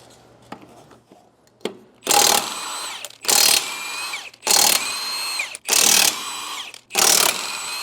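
An impact wrench or power tool fires five loud, close bursts in a regular rhythm, each whining up and stopping, as lug nuts come off a utility trailer wheel, preceded by a few light clicks and taps.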